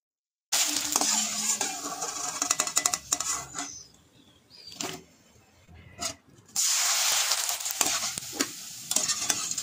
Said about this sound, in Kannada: ಈಗ ಇದನ್ನೇ ಎಣ್ಣೆ ಕರಿತಾ ಇದ್ದೀನಿ.